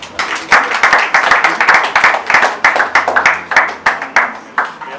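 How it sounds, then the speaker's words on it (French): Audience applause welcoming a speaker at an agribusiness investment talk in Cameroon, a loud, close crowd clapping with a fairly regular rhythm that holds throughout. "je vais vous demander sous l'applaudissement si vous pouvez accueillir monsieur Constantin Etot"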